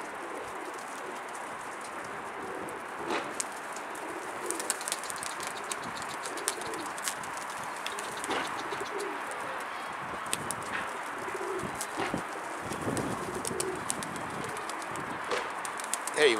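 A large flock of pigeons coos steadily outdoors, a dense continuous murmur of birds with scattered sharper calls and occasional wing flaps, moderately close and without clear speech.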